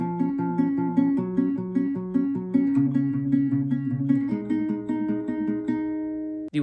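Fingerpicked acoustic guitar pattern from the third verse of a song, live version, played alone and close with steady repeating plucked notes and ringing strings, no talking.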